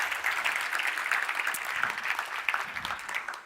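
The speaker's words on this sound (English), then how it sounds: "a round of applause for putting all this together" Conference audience applauding before a keynote talk, a steady, full crowd clapping that stays even and fairly loud for several seconds with no voice over it.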